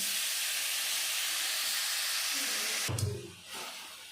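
Sugared coconut frying in a pan gives a loud, steady hiss that cuts off with a clatter near the end, then settles into softer sizzling.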